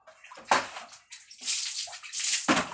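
Tap water running in bursts as hands are washed in a home kitchen while preparing a spicy dish with chili and sugar; splashy rushes start and stop, fairly close, with no talk.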